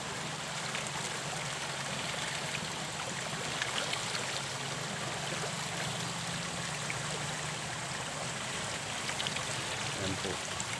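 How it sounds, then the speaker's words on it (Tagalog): Water rushes and splashes into a milkfish pond in a steady, continuous flow, a constant hiss with no pauses. "nagpapapasok po kami ng tubig sa prisa"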